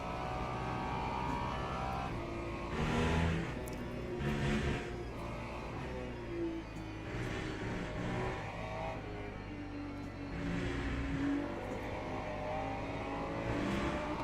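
LMP2 prototype race cars roar past in the Le Mans Ultimate racing game, a continuous engine drone with swelling passes as several cars come through one after another.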